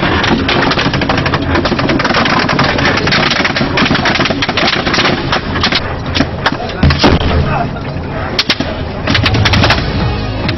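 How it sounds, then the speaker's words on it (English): Heavy gunfire from an attack by more than 100 Al-Shabaab fighters on soldiers near Tabda town, a dense, loud, nearly continuous rattle of automatic bursts and shots that fills the whole stretch. "Came under heavy enemy fire from more than 100 Al-Shabaab members."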